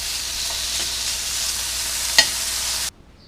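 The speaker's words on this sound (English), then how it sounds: "I'm just going to fry off some bacon." Bacon fries in a pan with a steady, close hiss and one brief click before the sizzle cuts off abruptly.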